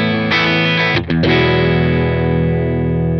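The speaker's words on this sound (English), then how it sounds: "this is just basically an amplifier and an IR or a cabinet," Heavily distorted electric guitar played through a Quad Cortex amp model and cabinet IR rings out as a loud sustained chord, briefly choked near the middle before ringing again, with no talking.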